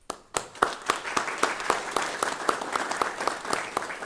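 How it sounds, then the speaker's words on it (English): Audience at an ROTC fall commissioning ceremony applauding, a few distinct sharp claps building into steady rhythmic clapping from a modest crowd, fairly close and continuous. "So I want to give you a round of applause."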